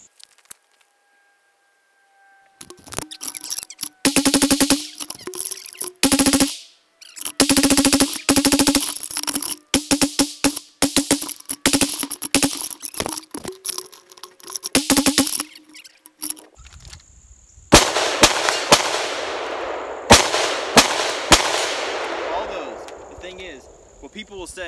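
A Colt Mk18 Mod0 rifle fires during a thousand-round reliability test, with loud, close strings of rapid shots in bursts separated by brief pauses.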